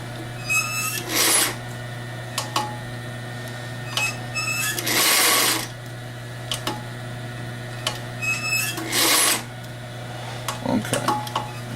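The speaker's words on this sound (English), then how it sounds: "so what we're going to do is sew our ends together here" A sewing machine stitching the ends of a barrel bag together: three bursts of rapid, whirring stitching, each a second or two long, separated by quieter pauses with small handling sounds over a constant low hum.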